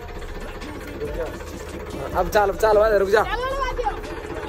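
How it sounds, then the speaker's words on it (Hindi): A tractor engine chugs in the background while people talk and call out loudly over it, and the voices build into excited shouting midway. "देख सकते हो गाइस हमारा ट्रैक्टर स्टार्ट हो चुका है भाई"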